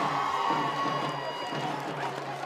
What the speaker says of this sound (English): See the student section cheering on their Vikings right now on Pink Out Night.